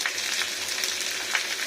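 Eggplant and potato fry in a pan for a Bengali posto dish, giving a continuous close sizzle with faint crackles and soft stirring, no voices.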